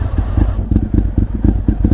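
A rare motorcycle engine running on race gas sits close by, a low, throbbing idle with a steady, lumpy pulse of firing beats and slight clatter, loud and alone.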